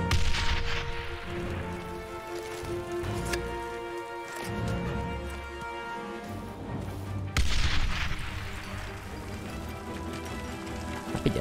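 Grenade blasts and gunfire in the World War II shooter game Enemy Front, with sharp booming bursts near the start and again around the middle over a steady bed of in-game music and battlefield noise.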